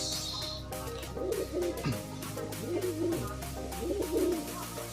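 Several pigeons coo in soft repeated phrases close by, low rolling calls recurring through the clip over a steady background hum.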